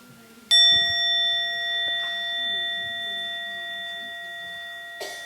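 A meditation bell is struck once, giving a clear, bright ring that sustains and slowly fades over several seconds, with a faint soft tap near the end.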